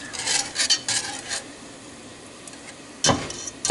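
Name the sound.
whisk stirring flour in melted butter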